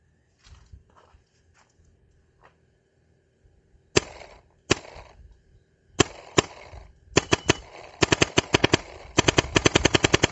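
Gun firing a string of shots, sharp loud cracks that start sparse and speed into rapid bursts, alone with faint handling noises between them.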